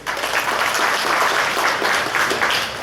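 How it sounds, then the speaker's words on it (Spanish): Warm applause for the honored guests at the head table of a teachers' forum in Puerto Bermúdez: a continuous wash of many hands clapping, fairly loud and steady, with no voices on top. "Acá en la mesa de honor, fuerte aplausos."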